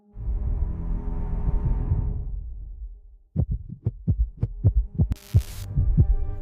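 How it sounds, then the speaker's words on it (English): A heartbeat sound effect follows a low humming drone. It comes as a close, loud series of deep thumping pulses in a steady rhythm, with a brief hissing burst near the end. "A heartbeat in the void."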